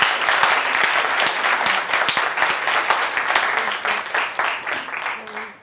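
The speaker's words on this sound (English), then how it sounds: "Let's give Maria a great round of applause." Sustained audience applause at a lecture honoring a distinguished lecturer, dense steady clapping from a large crowd lasting several seconds, loud and close.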